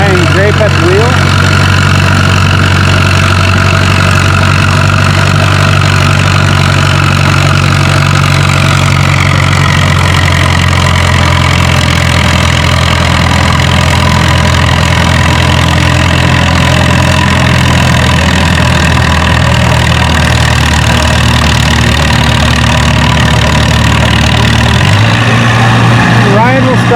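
A diesel pulling tractor, the Diesel Special, drags a 6,000-pound sled at a fall tractor pull, its heavy engine droning loud and steady throughout, then shifting lower near the end.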